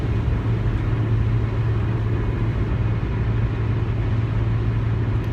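A car driving along, its engine rumbling steadily with road noise in a constant, moderately loud hum from inside the vehicle, with no voices.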